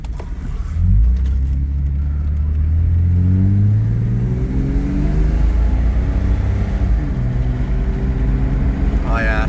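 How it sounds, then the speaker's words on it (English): A 1994 Toyota Land Cruiser FZJ80 engine with a Borla exhaust idles then revs up in rising sweeps, a deep throaty exhaust note that stays loud and steady, with a sharp rev near the end. "Just sounds like a nice Borla exhaust, you know, has that nice"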